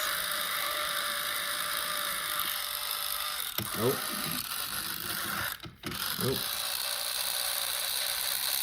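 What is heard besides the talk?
toy train locomotive mechanism running with a weird sound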